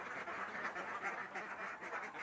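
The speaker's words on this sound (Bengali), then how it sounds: "দেখেন সমস্ত জাতের একদম ক্যাম্বেল হাঁস" A flock of Campbell laying ducks kept for eggs makes a faint, steady chorus of overlapping quacks that blur into a continuous distant din.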